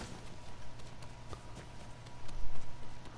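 Hoofbeats of a horse galloping in Ghost of Tsushima, a steady run of clip-clop steps at moderate loudness over a constant game background hum, swelling a little near the end.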